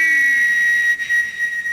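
A single loud, steady high-pitched whistle tone holds for nearly two seconds, wavering slightly near the end.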